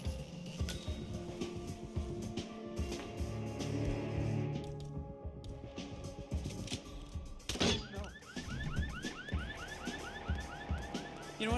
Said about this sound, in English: I'm not gonna deal with that alarm.